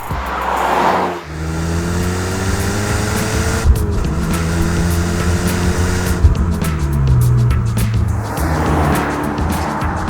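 A Mitsubishi Lancer Evolution Tommi Makinen Edition's turbocharged 2-litre twin-cam 16-valve inline-four with titanium turbo drones loudly and steadily as it drives, revving up and down between gear changes with turbo whoosh.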